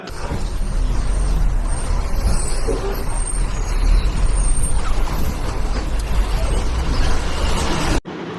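A bus rolls into the Kanjirappally bus stand, heard from inside as a loud, steady engine drone with road rumble and mechanical rattles, continuous until it cuts off near the end.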